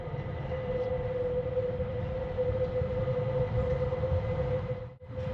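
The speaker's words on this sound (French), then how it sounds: "D'un coup, vous avez le train qui passe juste à côté de vous." A train on the Montbovon-Bulle line runs right alongside, a steady, close rumble with a sustained mid-pitched tone throughout, dipping briefly near the end; no one talks.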